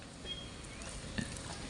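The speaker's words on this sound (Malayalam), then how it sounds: "നല്ല ചൂടെണ്ണയിലിട്ട് വറുത്തെടുക്കാം." Batter-coated leaves frying in hot oil in a home kitchen, giving a soft continuous sizzle and crackle with an occasional small pop, heard close and steady, with no talk.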